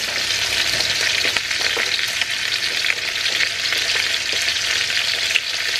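Green beans and other vegetables dropped into a hot pan for pancit, a loud, steady sizzle with crackles and occasional stirring scrapes throughout.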